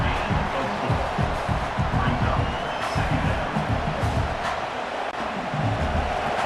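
Stadium crowd in the video game EA Sports College Football 26, a steady roar of fans with cheers and whoops at a Penn State Nittany Lions game, running continuously under talk throughout.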